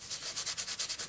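An embossing buddy powder pad rubbed back and forth over cardstock, giving a soft, close rhythmic scratching of about ten quick strokes with no talk.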